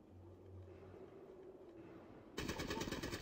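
Rapid automatic gunfire from the Fallout Tactics video game erupts abruptly near the end after a quiet stretch of low ambient hum, loud, dense and continuous.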